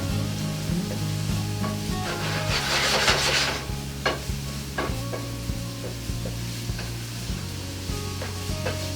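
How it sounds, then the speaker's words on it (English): Vegetables sauté in a pan at a festival cooking demonstration, giving a steady sizzle with scraping stir strokes and occasional sharp clinks, over a low tonal hum in the background. "You're basically just sauteing these just to soften them a hair and get the flavors working."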